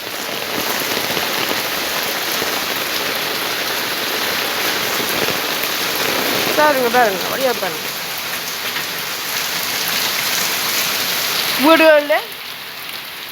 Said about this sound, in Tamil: நல்ல ஒரு பிறந்த மழை ஒன்று வருகின்றது.